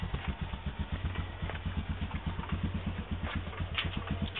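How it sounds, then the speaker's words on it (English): A Honda TRX 250 TM Recon ATV engine idles close by, its steady rapid low thumping pulse running evenly throughout with no voices. "The TRX 250 TM Recon Beast. Now let's see here how it goes."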